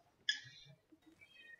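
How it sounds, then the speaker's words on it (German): A house cat meows once, faint and brief, in the background during a German Civilization game session, followed by quieter, drawn-out tones. "Wenn ihr meine Katze im Hintergrund hört"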